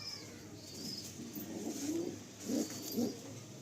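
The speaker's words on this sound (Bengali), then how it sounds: "এই হচ্ছে পায়রাগুলো স্ট্যান্ডিং, এটা খাঁচার ব্যবস্থা করা হয়েছে" Caged pigeons cooing in a few soft, low throaty bursts, with the strongest calls late on, set against a steady background hiss and no talking.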